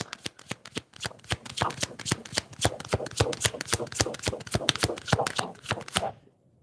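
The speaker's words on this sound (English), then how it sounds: "Gotta be careful how I shuffle." Cards are shuffled in a quick series of crisp, rhythmic flicks and slaps, close up, stopping abruptly near the end.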